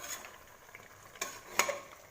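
Chicken frying quietly in a pan for a home curry, a soft sizzle with a few sharp scrapes and clinks of a spatula stirring, faint and close with no talking.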